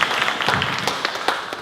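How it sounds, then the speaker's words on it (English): A short burst of audience applause at a SpaceUp LA 2013 talk event, brief scattered clapping that is moderately loud and fades quickly. "let's give a quick round of applause"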